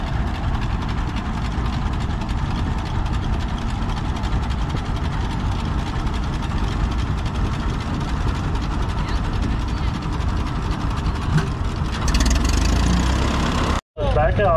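Antique farm tractor engines rumble steadily through a slow race at a gas engine and tractor show, a continuous low idling drone of several engines mixed with crowd and announcer talk.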